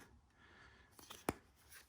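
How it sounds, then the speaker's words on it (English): Scissors snip through a length of heat shrink tubing in a workshop, one sharp, close cut standing out against quiet room noise. "Just cut this off with the scissors."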